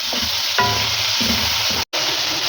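Chilies for a white chicken pulao sizzle in a pan under a steady frying hiss as a spoon scrapes and stirs in short repeated strokes, with one brief cut of silence near the end.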